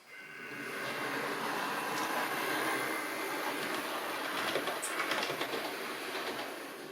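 A model train runs along its track from one block to the next, making a continuous soft rumbling whir that stays fairly faint and steady throughout.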